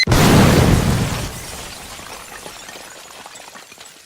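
A bomb blows a hole in a wall in one loud, close blast with a shattering burst of debris, then a rumbling decay that fades over several seconds.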